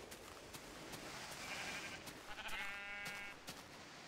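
Sheep bleat in Tekkit, a modded Minecraft world, with two stuck animals giving wavering bleats, one around the middle and a longer one following, over a steady background hiss.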